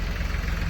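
A tractor engine running, a loud, steady low rumble with a rough, throbbing idle, heard close and without voices.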